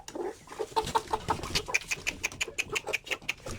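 Backyard chickens clucking softly in a quick, rhythmic run of short calls, fairly faint and close-by, with no talk over them.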